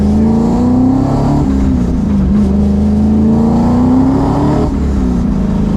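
A Ford Mustang with a Coyote engine idling and revving through its exhaust, a loud, continuous choppy rumble that rises and falls in pitch while held close.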